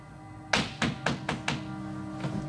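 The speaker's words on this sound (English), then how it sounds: "one of my cronies knocked at the door to tell" Knocking on a door during a live folk-noir improv stage performance: five sharp, hollow raps in a quick steady rhythm, close and loud, followed by a fainter sixth knock.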